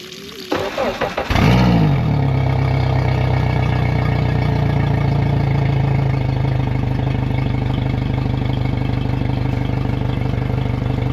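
A Suzuki DF150 outboard motor cranks and catches, then settles into a steady, loud idle while running on a water hose flush attachment during a 300-hour service, with a continuous even drone and no talking.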